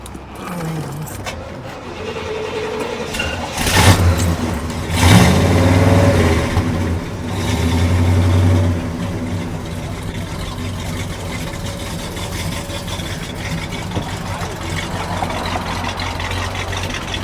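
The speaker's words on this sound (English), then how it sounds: "can you start it up so we can hear it?" A 1967 Pontiac GTO muscle car cranks briefly and fires up, its V8 catching with a couple of blips before settling into a low, steady rumbling idle that continues to the end.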